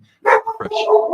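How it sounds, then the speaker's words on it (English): A dog barks a few times up close, short sharp yelps in quick succession. "that's why they're barking. They hear her car."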